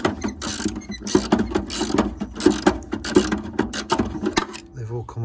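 A ratchet clicks rapidly and steadily, close up, turning an 8mm socket on an extension bar during plumbing work, with the ratcheting running for several seconds before a brief low sound at the end.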